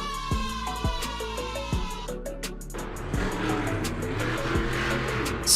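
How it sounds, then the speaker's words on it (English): A Spider-Man monster truck revving its engine in repeated rising and falling surges, followed by a broad roar and tire noise, loud and close. "This is the Spider-Man Monster Truck."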